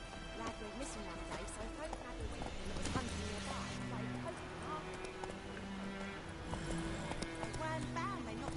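Roach the horse's hooves clip-clopping in The Witcher 3, a steady rhythmic trot under game music and ambience, with voices speaking over it.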